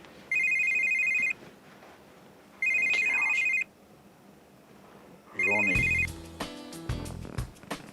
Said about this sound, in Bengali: তুমি কি তন্ময় সাহেবকে ফোনটা করবে